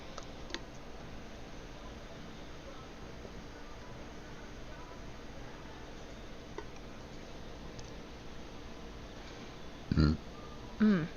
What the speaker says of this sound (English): Excuse me, I keep burping, I'm sorry.